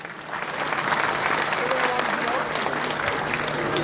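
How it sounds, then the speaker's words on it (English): A crowd at a Bodo film award ceremony applauds steadily and fairly loudly, a dense wash of clapping hands with some voices mixed in beneath it. "Let's give a big round of applause for Dipen Borosa."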